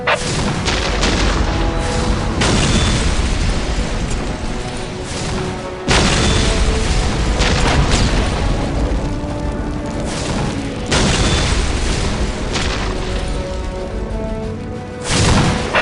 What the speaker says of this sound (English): Whirlwind artillery tank here.